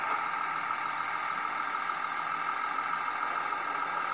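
A model diesel rail car on a layout gives off a steady, unbroken engine idle, a constant mid-pitched hum that stays even and fairly quiet throughout, with no talking.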